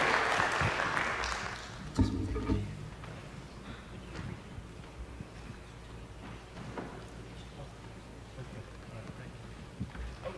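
Applause at a city council meeting, a burst of clapping that starts moderately loud then thins out within a few seconds, leaving scattered claps, shuffling and room noise.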